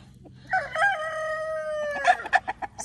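A rooster on an old family homestead crows one long, loud, drawn-out call close by, followed by a few short clucks from the chickens, with no talking.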